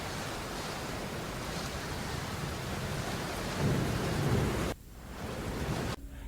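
Heavy monsoon rain pours down as a dense, steady roar with low thunder rumbling beneath, swelling briefly before cutting to quieter gaps near the end; the downpour is over the Parshuram ghat in Ratnagiri.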